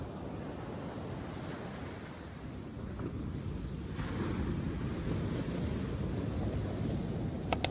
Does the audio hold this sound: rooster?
no